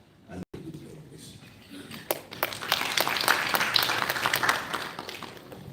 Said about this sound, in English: A round of applause for the convener